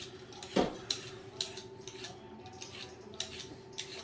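Potatoes peeled by hand, giving light scraping strokes and small metallic ticks at an irregular pace, close and quiet with no talk.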